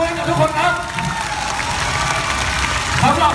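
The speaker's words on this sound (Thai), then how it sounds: "ขอเสียงปรบมือกับทุกคนครับ" A rally crowd applauds and cheers steadily throughout, a dense wash of clapping with a voice speaking over it.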